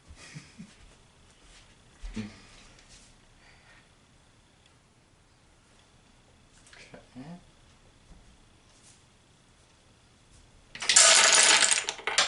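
Wooden Jenga blocks tumbling from a collapsing tower, a loud dense clatter near the end after scattered taps and low talk earlier.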